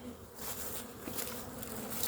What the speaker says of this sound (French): Ah, les abeilles sont belles là.